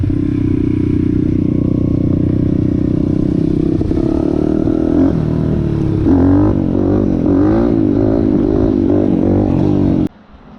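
A 140cc pit bike with a YX engine, heard up close as it idles and then revs hard through rising and falling pitch sweeps while shifting gears, loud and buzzy, cutting off abruptly near the end.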